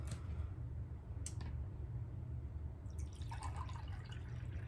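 Water poured from a measuring cup trickles and splashes steadily over a constant low background hum, growing brighter toward the end as the pour fills the container.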